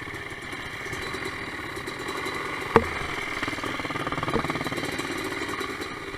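A Suzuki DRZ dirt bike engine drones steadily at a moderate distance, with a single sharp knock partway through and a slight swell in engine noise toward the end.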